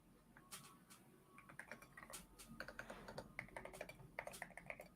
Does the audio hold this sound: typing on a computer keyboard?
yes